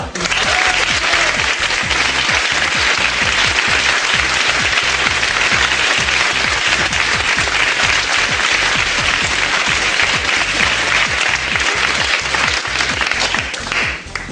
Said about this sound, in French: Je vous demande d'applaudir très fort notre petit prince, Misha